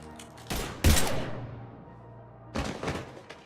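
Gunfire in the video game Mass Effect 3, a few sharp loud bursts and thuds with a lingering low hum between them, then another cluster of shots near the end.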